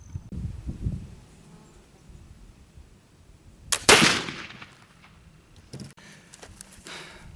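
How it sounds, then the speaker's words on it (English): One loud, close muzzleloader shot loaded with re-milled Swiss black powder, a sharp blast that trails off in a long rumbling decay amid outdoor background noise. "Let me get reloaded and get another shot."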